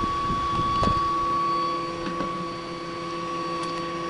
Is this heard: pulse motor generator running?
yes